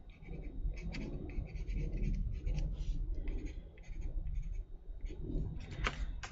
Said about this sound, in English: I just want to add a little bit of pencil.